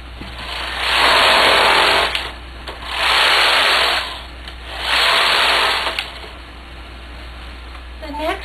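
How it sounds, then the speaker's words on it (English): A knitting machine with main bed and ribber, both carriages at tension 3, makes three loud whooshing passes as the carriages are pushed across, with quiet gaps between rows over a steady low hum. "Then I set both carriages to tension 3, and I knit 3 rows."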